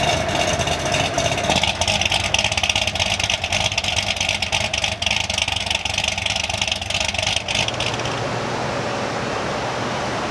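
Corvette C6 Z06 with a muffler mod, running in quiet exhaust mode: a steady, fairly subdued engine drone with a broad exhaust rush that holds even and close throughout, with no sharp revs.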